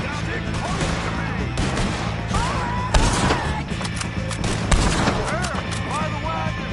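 Gunfire in Red Dead Redemption 2 during a chaotic shootout: scattered shots and thumps over a dense, loud battle din, with voices shouting underneath.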